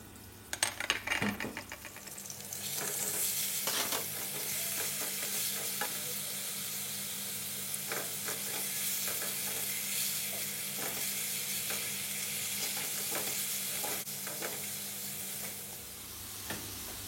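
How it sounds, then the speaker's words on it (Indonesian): Garlic sautés in margarine or oil for a broccoli stir-fry, giving a steady close sizzle with occasional stirring scrapes and clinks of a utensil in the pan throughout, with no voices. "Tumis bawang putih sampai harum."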